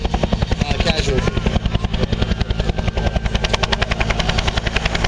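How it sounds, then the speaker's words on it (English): An Agusta Bell AB212 helicopter hovering at an airshow during a rescue winch demonstration, its rotor pulsing in a loud, fast, continuous beat with a heavy engine drone underneath. "The aircraft now stabilized in the hover."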